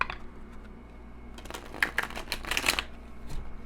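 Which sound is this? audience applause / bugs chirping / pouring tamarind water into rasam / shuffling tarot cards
shuffling tarot cards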